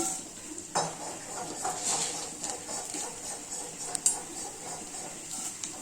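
Mustard seeds, fenugreek, urad dal and coriander fry in a pan for a South Indian rasam, a soft sizzle under scraping spoon and metal clinks against the pan, close by, with no talking.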